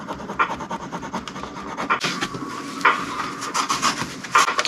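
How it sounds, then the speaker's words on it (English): A scraper tool pushes softened goo off a Nintendo game cartridge, making close, irregular rubbing and scratchy scraping strokes that come in short bursts. "I'll grab like a scraper tool and just push it off"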